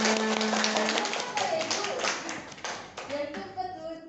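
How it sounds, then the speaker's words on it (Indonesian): A group of children and their teacher clap hands together in a school classroom, quick irregular bursts of claps over lively young voices, with a sung chant fading at the end. "Ya, tepuk tangan semuanya."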